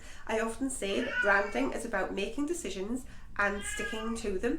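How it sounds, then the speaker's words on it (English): A house cat meows in the background while someone talks steadily over it, the cries short and repeated and partly buried beneath his voice. "Sorry about my cat."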